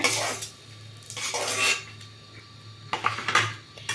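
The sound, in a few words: fried eggs being taken out of pan onto a plate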